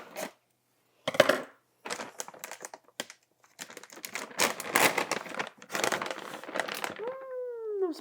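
A 24-ounce bag of frozen breaded chicken crinkles in bursts in a home kitchen, followed by scissors snipping through the plastic, with brief sliding rasps near the end.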